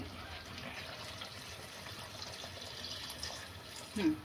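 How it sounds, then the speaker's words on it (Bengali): Hot water poured into a pot of slow-cooking Bengali-style mutton curry, a steady gushing splash that runs throughout, ending in a brief louder burst near the close, with no voices heard. "এখন আমি গরম জল করে নিয়েছি, গরম জলটা একটু দিয়ে ছোট করে রাখবো।"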